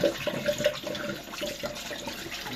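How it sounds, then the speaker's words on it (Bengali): Flatfish being washed under running tap water, a close, steady splashing stream with small irregular splashes. "ভালো করে ধুয়ে নিতে হবে"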